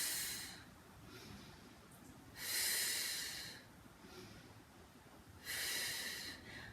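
Slow, breathy exhalations during a Pilates exercise with weights, two long airy breaths out in a quiet room, close and soft, with no talking.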